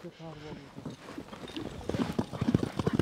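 Hooves of a light English-breed horse clip-clop in a quick, uneven rhythm, close and growing louder, with a voice heard briefly at the start.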